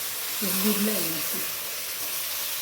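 Hot water is poured into a pan of cooking sugar, raising a steady, close sizzling hiss, with a voice speaking briefly over it.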